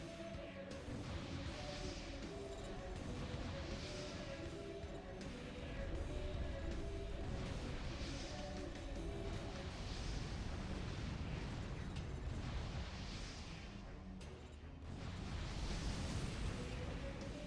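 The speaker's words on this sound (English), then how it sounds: "I'm just gonna dodge around his bazooka shots." Repeated booming blasts and bazooka shots from Armored Core For Answer, a dense, continuous wall of explosions and weapon fire, loud throughout with background music running underneath.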